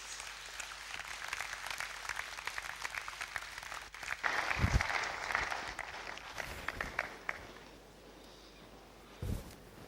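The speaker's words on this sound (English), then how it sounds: "Please give him a round of applause, please." An audience at a platform event in Abuja gives a round of applause to welcome a speaker, a sustained distant crowd clapping over about ten seconds with a few low thumps, swelling midway then tapering off.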